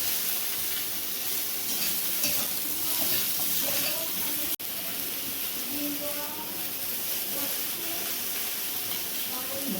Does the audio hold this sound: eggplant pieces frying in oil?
yes